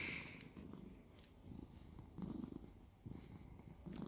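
A very quiet, steady low purr rumbles continuously, close by and soft, with gentle pulsing as the cat breathes in and out.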